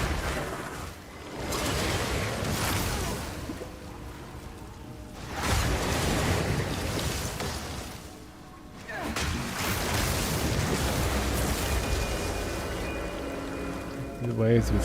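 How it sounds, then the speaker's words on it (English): Crashing waves in Path of Exile 2, surging rushes of watery noise that build and break in three broad swells, with faint combat clatter and a voice talking underneath. "The waves be scaring me"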